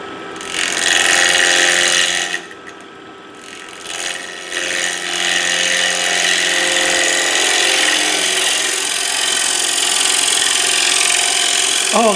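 A wood lathe roughs out a winged bowl, a loud, close, continuous whirring and scraping of the tool against spinning wood, dipping briefly partway through before resuming steadily.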